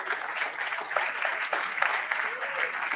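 A gala audience at an impact investing event applauds DLP operators as they stand, a continuous wash of clapping with occasional sharper claps and voices mingled in, moderately loud throughout.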